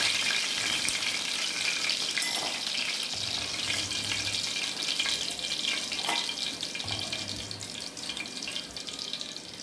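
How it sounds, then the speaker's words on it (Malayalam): Chicken pieces frying in hot oil in a home kitchen for chilli chicken, a steady bright crackling sizzle running throughout with a few louder pops. "നമുക്കിത് വറുത്ത് പോരാം"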